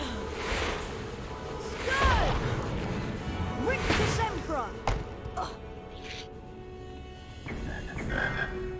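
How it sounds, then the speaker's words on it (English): Frogs croaking in the PC game Harry Potter and the Chamber of Secrets, a few croaks and chirps mixed with whooshes, thuds and game effects over a background hum. "Frogs."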